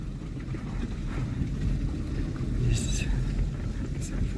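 A tractor engine rumbles low and steady in an open farm field, a continuous deep drone with wind, while a voice speaks over it.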